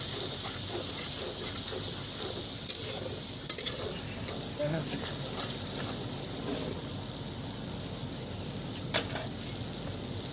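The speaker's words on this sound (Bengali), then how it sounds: "সমস্ত উপকরণ ভালোভাবে নেড়ে দিচ্ছি" Chilli chicken spices such as cumin and Kashmiri chilli powder fry and sizzle in a pan while being stirred, a steady close hiss with scattered scraping clicks of the spoon throughout.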